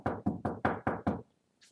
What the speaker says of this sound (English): Harry and Ron knocked softly on the door.